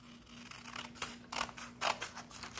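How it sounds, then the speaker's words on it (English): Scissors snip through paper along a diagonal line for a craft, a few faint close crisp cuts in quick succession over a low background hum, no talking. "the next step is to cut it along that diagonal line."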